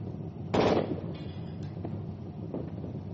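Gunfire in a shooter video game with insurgent teams: one sharp, loud burst near the start, then quieter distant pops over a low background rumble.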